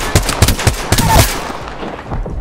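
A short burst of rapid gunfire in Apex Legends, about six close, punchy shots in quick rhythm, then a fading echo and quiet tail.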